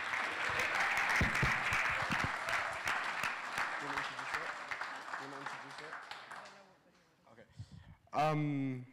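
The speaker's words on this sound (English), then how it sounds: "can we just have another round of applause for our beautiful" Sustained applause from a large audience fills most of the clip, fading out before a voice speaks briefly at the end.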